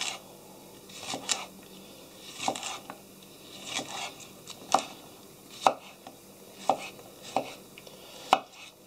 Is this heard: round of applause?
no